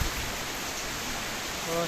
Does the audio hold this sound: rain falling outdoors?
yes